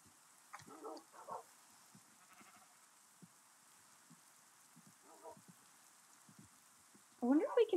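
Sheep bleat in a medieval village video game, several short calls scattered over a quiet background with soft clicks, the last bleat louder and nearer at the end.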